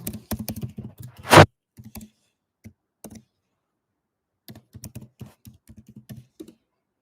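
Keys tapped on a computer keyboard in short irregular bursts of clicks, with one louder clatter early on, then pauses and more scattered taps; close and clear, with no talking.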